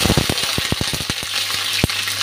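Green chillies fry in a hot pan with garlic and dried chillies, giving a loud, close, continuous sizzle broken by rapid repeated knocks and scrapes of a spatula stirring against the pan.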